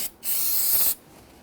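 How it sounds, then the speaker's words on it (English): Solvent cleaner sprayed from an aerosol can onto the brake master cylinder cover of a 2008-2013 Infiniti G37, one close hissing burst lasting under a second, then quiet. "you want to go ahead and spray and clean up the cover itself"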